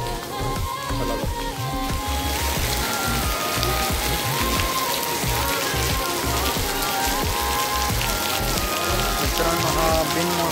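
Unseasonal rain falls steadily in Koradi, Nagpur, pattering densely on nearby surfaces. The even, unbroken wash of drops stays close and constant throughout, with no pauses or voices standing out.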